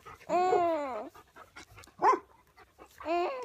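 Dogs whine and whimper nearby in drawn-out, high-pitched cries with short yelps and soft panting between them.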